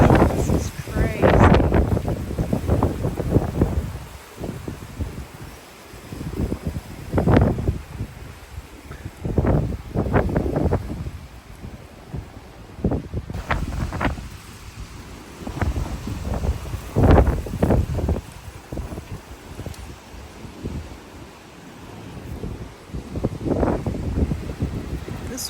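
Strong night wind buffets a swinging hammock outdoors, with loud gusting roars and rustling that rise and fall in surges. The noise is heavy and continuous throughout.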